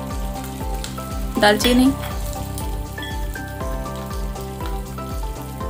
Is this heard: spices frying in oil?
yes